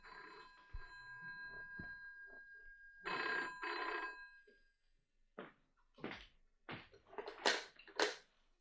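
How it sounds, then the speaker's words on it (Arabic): A telephone rings several times in short bursts indoors, loud and close, with a knock or thump early on and no talk over it. "اقوم انا ارد على التليفون"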